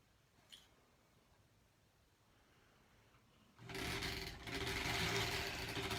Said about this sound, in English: So I'm back to this sewing machine